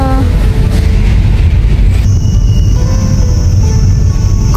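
Darjeeling Himalayan Railway toy train rumbling steadily nearby, a continuous loud low-frequency roll with a metallic hiss shifting partway through.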